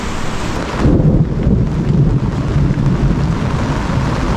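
Heavy rain pours steadily at night with a deep rumble of thunder rolling in, loud and continuous, no voices present.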